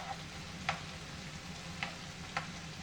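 Mushrooms and kale stir-frying in a pan give a steady, soft sizzle, broken by a few sharp clicks of a utensil against the pan.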